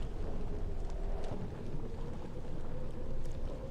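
Heavy rain hisses steadily in the video game Hypnagogia: Boundless Dreams as a dense, continuous wash with low rumbling underneath, with no speech over it.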